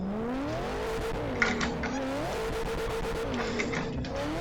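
Tires on a four-door Nissan R32 squeal in long, wavering, pitch-bending screeches as it drifts around a track, over a steady engine drone, with no talking.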